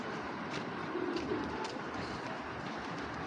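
A female racing pigeon coos softly in a farm loft, low murmuring calls partly buried under steady background noise.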